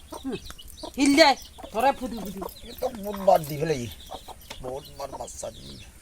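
A hill-breed hen clucks and makes drawn-out calls at close range, with a person talking at intervals.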